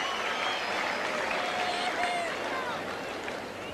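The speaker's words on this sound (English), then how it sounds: "The crowd wanting the players to come out" Tennis crowd in the stands at the 1996 US Open final between Steffi Graf and Martina Hingis, a steady broad murmur and scattered clapping as spectators wait for the players to come out.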